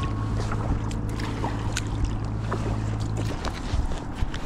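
Paddling an Advanced Elements Airfusion EVO inflatable kayak on open water at Sätra, with steady wind and water wash filling the scene and faint paddle splashes dipping in and out.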